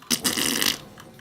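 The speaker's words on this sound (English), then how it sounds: "Reverb fart." Reverb fart sound effect from a modded Doom game stream, one loud brassy blast of about half a second that trails into a short echoing tail.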